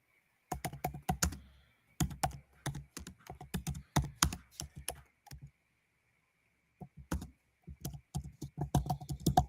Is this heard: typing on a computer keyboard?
yes